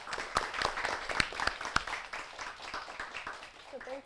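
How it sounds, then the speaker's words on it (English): Studio audience applause during a live TV show as a guest is welcomed, a scattered burst of clapping with a few sharp claps standing out, moderately loud and fading near the end. "can we have a big round of applause for our guest today, Faye?"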